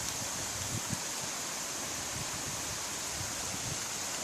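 A mountain stream flows steadily in an area that is usually dry, a continuous broadband rushing wash with no voices, close and even in level.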